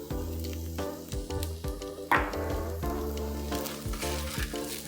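Dry red chilies and curry leaves sauté with onions in hot oil for Kerala-style chicken, a close sizzle and crackle with stirring clatter, heard under steady background music and no speech.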